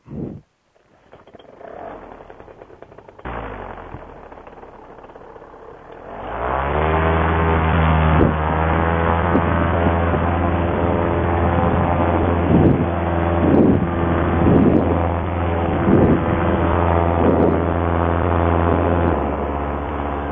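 A paramotor's small propeller engine starts up on a windy day after a few seconds of quiet handling noise, then runs steadily and loudly with a droning buzz and slight throttle changes.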